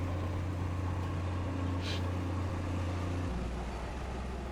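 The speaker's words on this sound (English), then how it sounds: "There's a garbage truck behind me." A garbage truck idles close behind in a street, its steady low engine rumble filling the background before dropping in pitch near the end, with no one speaking over it.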